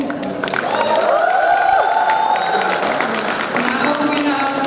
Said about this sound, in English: Let's cheer up for him once again.